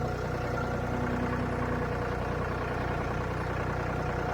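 A farm tractor engine runs at a steady idle-like drone, even and continuous, close by with wind-blown outdoor noise and no talk.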